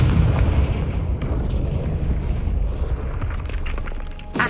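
A Confringo fire spell blast in the video game Hogwarts Legacy: a loud, deep booming explosion with a rumbling low-end burst that fills the moment, followed by a sharp crackling hit near the end.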